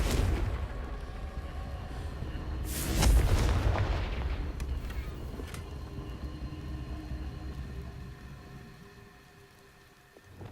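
A Confringo fire spell detonates in the video game Hogwarts Legacy: a loud burst of explosive rumble bursts out amid ambient rain-like hiss, then decays into a long, fading crackle.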